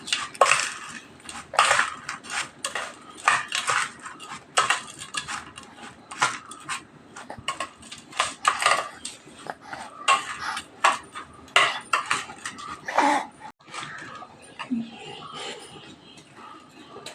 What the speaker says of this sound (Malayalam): മിക്സിങ് തുടങ്ങാം